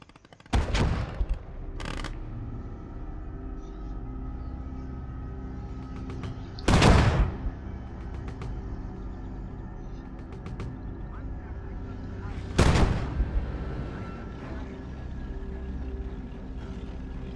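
Artillery gun firing in a WW2 battle game, three widely spaced heavy shots standing out over a constant low battlefield rumble, with a faint voice in the background.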